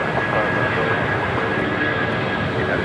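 An Airbus A350-900 on short final landing at LAX runway 25 left, a steady loud engine roar that holds evenly throughout, close by.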